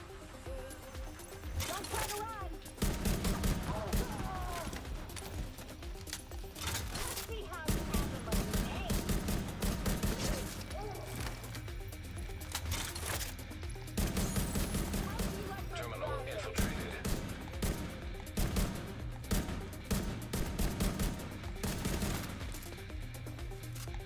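Rifle gunfire in The Division 2, a dense stream of shots and game effects running throughout, loud and busy, with a voice talking over much of it.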